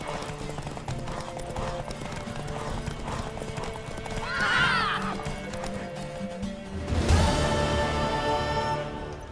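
In The Witcher 3: Wild Hunt, rhythmic hooves clip-clop steadily, a horse whinnies loudly midway, then a sudden heavy rush of galloping and clatter near the end.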